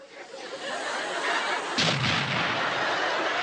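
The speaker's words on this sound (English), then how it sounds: "There's a bomb! There's a bomb!" A bomb explosion effect in a comedic Swedish Chef coconut sketch: a loud, sustained roaring blast that swells midway with a heavy boom, then rumbles on as dense noise, with no talking.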